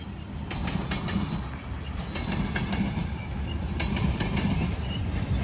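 A CN freight train led by locomotives 2655 and 2312 rolls through Marinette, Wisconsin, giving a steady, moderately loud rumble with rhythmic wheel clicks over the rails throughout.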